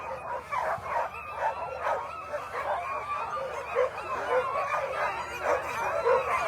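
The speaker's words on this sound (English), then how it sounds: "That's a long string of dogs there" Jim Lanier's Northern Whites, a long string of sled dogs at the start of the 2022 Willow 300 race, bark, yip and whine continuously in a dense, excited chorus with occasional howls, loud and near.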